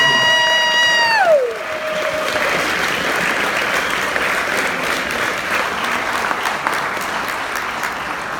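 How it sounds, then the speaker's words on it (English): An audience at a school wrestling assembly breaks into loud, sustained applause with some cheering after a brief electronic tone fades, the clapping continuing steadily to the end. "let's give Monty another big round of applause for doing our first"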